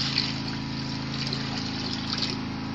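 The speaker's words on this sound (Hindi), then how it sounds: "पानी डाल दिया है" Water pours steadily into a cooking pot for kofta biryani, a continuous close gushing, pump-like rush that holds even throughout with no talking.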